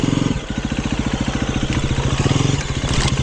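A KTM motorcycle engine pulses in rapid, even firing beats while riding off-road, loud and close, with the throttle rising and falling in short bursts.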